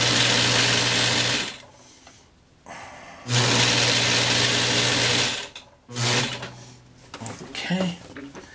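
A sewing machine top-stitches a shirt collar, running in loud steady mechanical bursts with short pauses between passes, the stitching rhythm whirring close up.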